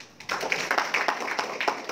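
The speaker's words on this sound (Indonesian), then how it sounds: "Luar biasa, tepuk tangan." An audience claps in applause during a reseller training seminar in Surabaya, a dense patter of hands that starts abruptly and keeps going at a steady, moderately loud level.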